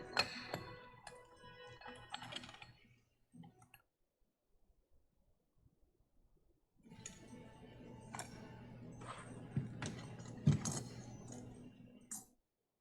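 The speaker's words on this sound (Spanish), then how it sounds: "vamos a ordenar del tambor que salieron todas estas partes, colocarlas en la posición que salieron" Metal parts from an automatic transmission drum clink and jangle as they are laid out in order, in close bursts separated by a quiet pause, then a longer stretch of shuffling and tapping.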